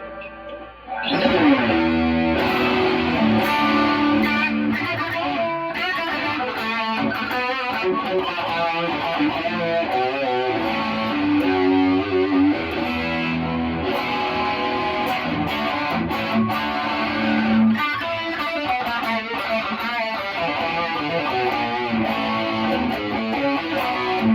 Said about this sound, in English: that's one riff that sounds better now that I know what distortion is, and use an overdrive to get distortion